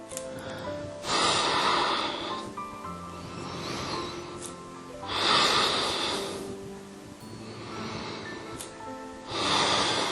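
Deep, audible breaths during a yoga exercise: a few long, airy inhalations and exhalations rise and fall in slow cycles, close to the microphone with no talking.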